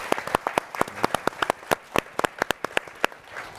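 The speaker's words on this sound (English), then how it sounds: "If we can have a round of applause for our panel" An audience gives a panel of executives a round of applause at a conference, a short burst of scattered, distinct claps from a modest crowd, nearby and fairly loud.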